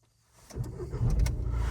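A 2012 SEAT Leon FR 170ps TDI diesel engine cranks and catches after a short quiet moment, then settles into a low, steady idle close by.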